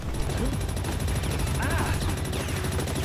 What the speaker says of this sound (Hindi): ये तो गोली चला रहा है लेकिन बंद होने का नाम ही नहीं ले रहा है